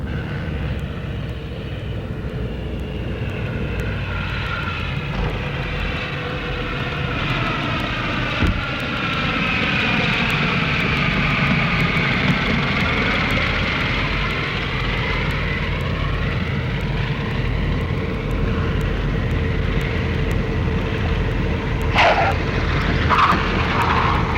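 Propeller airplane approaching to land on runway 22L, a droning engine that swells and shifts in pitch as it passes close overhead, loud and steady, with no talk.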